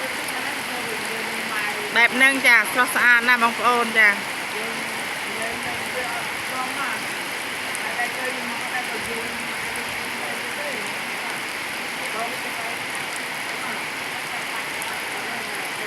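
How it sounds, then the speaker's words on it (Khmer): Heavy rain pours steadily over rice fields in rural Cambodia, a dense and continuous hiss. Someone talks briefly near the start over the downpour. "នេះភ្លៀងធ្លាក់បងប្អូនចាភ្លៀងធ្លាក់ខ្លាំង"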